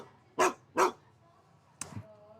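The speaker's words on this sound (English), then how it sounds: "Barking." Two quick dog barks close together, followed by a fainter third yip, short and sharp against a quiet background.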